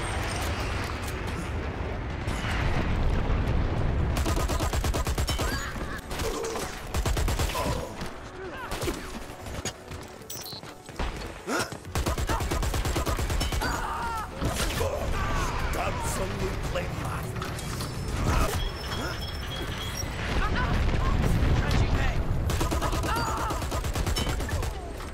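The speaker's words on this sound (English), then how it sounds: "Incoming fire support" Skyhammer airstrike fire support in the shooter Dirty Bomb, heavy booming blasts and rattling gunfire that roll on continuously in loud, low rumbling waves, with a voice talking over the battle.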